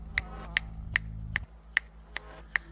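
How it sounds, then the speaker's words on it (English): Finger snapping, seven crisp, evenly spaced snaps about every 0.4 seconds, close and clear over a low hum that cuts out midway. "I think I was snapping my fingers"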